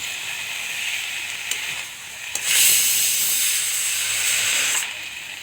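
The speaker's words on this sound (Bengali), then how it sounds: "হালকা ফ্লেমে এটাকে আস্তে আস্তে করে চালিয়ে নিচ্ছি" Mushrooms frying over a low flame while being stirred, a steady hissing sizzle that swells louder midway, with a couple of faint clicks from the spatula.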